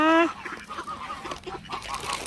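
Geese honk repeatedly in a noisy flock, one loud close call at the start followed by a stream of overlapping nasal honks.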